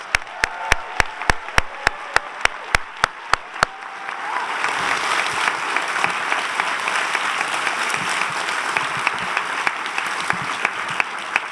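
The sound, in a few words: audience applause for Rockford arts award nominees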